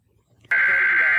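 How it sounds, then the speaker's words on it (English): An emergency alert system broadcast tone cuts in abruptly after a brief quiet moment, a loud, steady, piercing electronic beep held continuously to the end. "It starts off with that emergency alert system."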